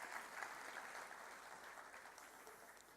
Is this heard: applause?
yes